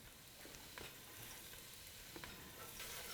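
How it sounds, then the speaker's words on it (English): Onions are stirred in a pan for tomato soup: a faint, soft sizzle with a few light scraping ticks from the spoon, with no talking. "As we give our onions a stir"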